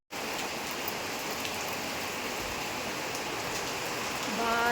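Heavy rain falls steadily and loudly, a dense, unbroken hiss of drops hitting surfaces nearby from start to finish, with no voices over it.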